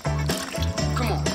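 Water from a mixer jar, used to rinse out leftover masala, is poured into a cooking pan for pepper chicken masala, giving a near, steady liquid pour with brief pauses and no talk.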